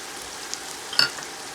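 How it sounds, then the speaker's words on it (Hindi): Chicken cubes hit a hot pan for a chicken kabsa, giving a soft, steady hiss of sizzling with one brief louder crackle in the middle; short and fairly quiet. "अब इसमें डालते हैं चिकन क्यूब"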